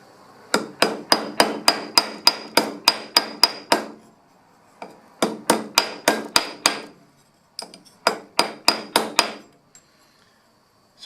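A hammer strikes a metal brake pull tube during shaping, in three quick rhythmic bursts of about eight to ten sharp, ringing blows each, separated by short pauses, close and loud with no talking.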